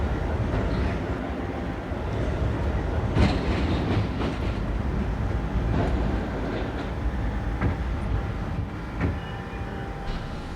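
An R32 subway car runs on the F line, its wheels giving a loud, continuous rumble with repeated clickety-clack rail joints and metallic squeals, heard from inside the train with no talking.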